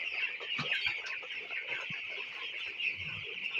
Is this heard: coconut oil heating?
no